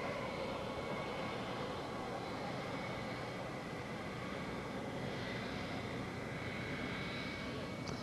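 Air Force One departs in the rain, a steady distant aircraft engine roar holding evenly throughout with faint background voices.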